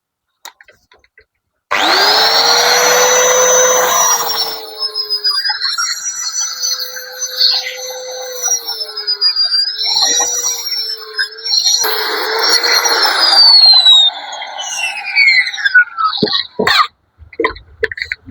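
Fine sanding disc on a power tool smoothing a laduk machete blade from Lampung, a loud continuous whine with shifting pitch for most of the stretch, easing off and breaking into short scrapes near the end.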